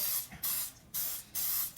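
Three short bursts of cooking spray hiss close up into a bread pan, each about a third of a second, separated by brief pauses.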